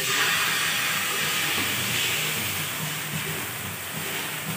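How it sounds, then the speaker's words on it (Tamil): Ragi adai batter hits a hot oiled tawa and sizzles with a broad, steady hiss that is loud and close and fades slightly toward the end, with no voices. "இதில் கொஞ்சமாக ஆயில் அப்ளை பண்ணிவிட்டு இப்போ இதை ஒரு சின்ன அடை மாதிரி ஊற்றி எடுத்துக்கலாம்"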